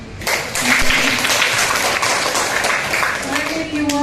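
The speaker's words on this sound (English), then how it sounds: "Can we give him an applause?" Audience applauding a guest lecturer, Professor Baxi, after a university talk on improving flowering and fruiting in fruit plants; steady clapping runs nearly the whole time with a voice speaking over it near the end.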